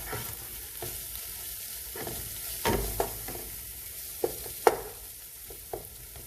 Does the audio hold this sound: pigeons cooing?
no